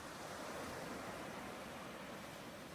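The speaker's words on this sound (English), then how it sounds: "As the waves roll in" Ocean surf rolls in as a steady, broad wash of crashing water, constant and fairly soft with no voices.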